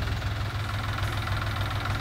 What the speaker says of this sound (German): Einfach mit dem Trecker hochheben.